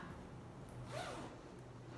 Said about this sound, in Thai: รูดซิปนะคะ